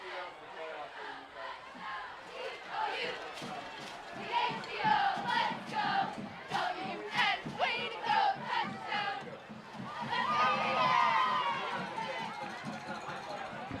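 A big crowd roars and cheers from the stands at a homecoming high school football game between the Utica Chieftains and L'Anse Creuse North Crusaders, a dense, sustained wash of voices that swells louder near the end.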